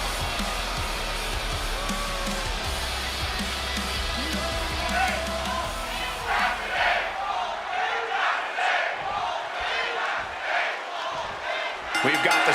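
Wrestling arena crowd in the video game WWE 2K26, a steady roar of cheering and yelling that later swells into louder surges of shouting while a commentator talks over it.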